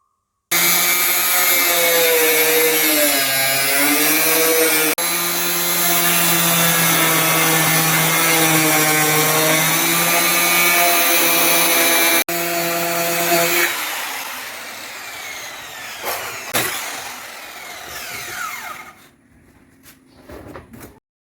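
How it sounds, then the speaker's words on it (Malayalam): A plastic drum being cut in half with a cutting machine: a loud, steady whining power-tool drone with shifting pitch runs for about twelve seconds, then gives way to scraping, knocking and handling sounds of the split drum. "നമുക്കൊരു കട്ടിംഗ് മെഷീൻ വച്ചിട്ട് കട്ട് ചെയ്തെടുക്കാം"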